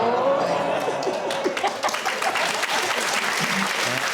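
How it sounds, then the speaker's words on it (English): A television studio audience on a British comedy panel show breaks into steady applause, a dense close wash of clapping with a few chuckles that gradually thins out. "Round of applause."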